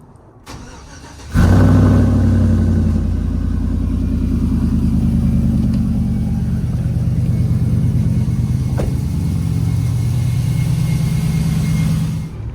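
A car engine cranks briefly, catches and settles into a steady, loud, close idle that runs on evenly with a faint cooling-fan whir, no voices.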